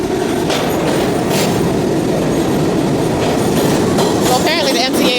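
A New York subway train rumbles loudly through Atlantic Ave station in Brooklyn, with continuous clattering wheels and metallic squeals rising near the end.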